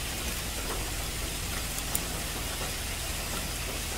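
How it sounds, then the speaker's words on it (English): Rain falls steadily in an outdoor off-road setting on slick clay, a dense even hiss with no distinct drops or voices. "Rain's picking up."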